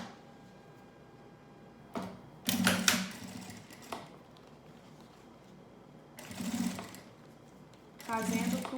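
A sewing machine topstitches a seam on a lunch bag in three short runs of rapid, even mechanical stitching, with quiet pauses and light handling clicks between them.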